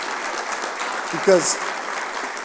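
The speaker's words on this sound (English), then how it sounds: "I just want to give you guys a big round of applause" Steady applause from a gala audience for the band and chorus at a veterans' awards event, continuous and fairly even, with a brief voice cutting in midway.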